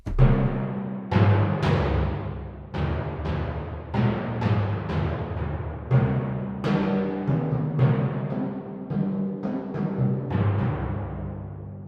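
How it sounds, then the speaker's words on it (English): Deep, booming timpani strokes from an orchestral sample library, struck one after another at a steady, unhurried pace, each hit swelling and ringing out before the next. "Then we have the timpani."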